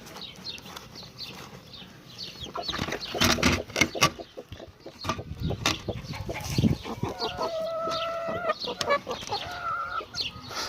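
Hens and chicks emerging from a coop cluck and peep nearby, bursts of clucking and thumping movement building after a quiet start, with higher chirping calls toward the end.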